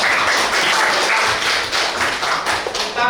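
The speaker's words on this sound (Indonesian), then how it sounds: "Kasih tepuk tangan." A group of students claps together in dense, lively applause that holds steady for a few seconds.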